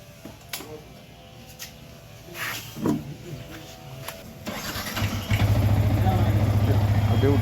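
A motorcycle engine, treated with engine cleaner, starts about two-thirds of the way through and settles into a loud, steady idle close by, after scattered knocks and muffled background sounds.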